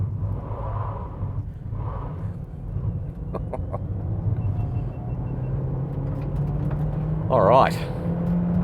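A 2024 MG3 hybrid car accelerates hard up to highway speed, its engine drone building steadily from inside the cabin with a rising tone near the end, while people talk over it.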